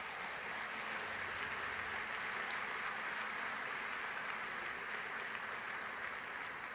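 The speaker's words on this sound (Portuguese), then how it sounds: "Vamos aplaudir a palavra do Senhor." A church congregation applauds in a steady, even wash of clapping that holds from start to finish, soft and somewhat distant.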